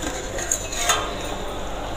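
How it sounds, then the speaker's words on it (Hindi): Lid lifted off a pot of potato and chickpea curry, a couple of light metallic clinks over a steady background hiss, fairly close. "सब्जी को खोल के देख लेते हैं।"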